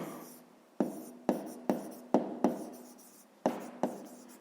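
Handwriting on a math exercise makes quick, close, quiet scratchy strokes. They come in short separate bursts, roughly nine marks in a few seconds, with no voices.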